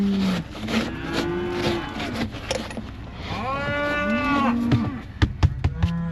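A group of cattle on a ranch moo repeatedly, long drawn-out calls overlapping from several animals at moderate distance, with a few sharp knocks near the end.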